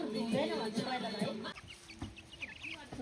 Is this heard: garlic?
no